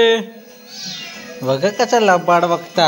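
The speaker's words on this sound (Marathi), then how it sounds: "ही आमची मांजरा बघा काळी कूट झाली आहेत" A domestic cat meows in a home, a clear harmonic cry at the start followed by several more insistent meows later, with a person talking over them.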